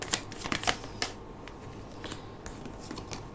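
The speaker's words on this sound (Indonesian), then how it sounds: "aku akan shuffle lagi ya." Tarot cards shuffled by hand at close range, a quiet, steady riffling and flicking with a few sharper snaps early on, alone with no talking.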